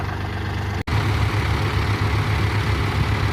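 Mahindra 575 DI XP Plus and Powertrac Euro 45 Plus 4WD tractors running in top gear, a loud, steady low diesel drone with a brief dropout, no voices.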